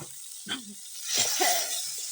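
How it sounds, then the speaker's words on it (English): Tomatoes dropped into a hot pan with chili, cooking in a village kitchen, set off a soft hissing sizzle that swells midway with brief scraping stir sounds, fairly close but modest in volume. "After putting chili, I add the tomatoes."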